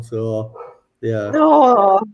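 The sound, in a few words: German Shepherd dog barking in the background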